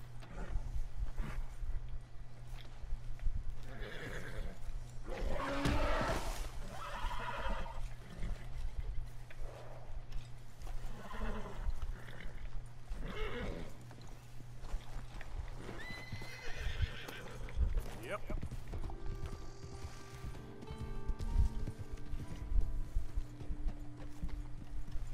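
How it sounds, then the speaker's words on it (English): Hooves clip-clop steadily as a horse whinnies and snorts nearby in the video game Red Dead Redemption 2, with faint trickling water and a low hum underneath. "Arthur, get that horse out of here."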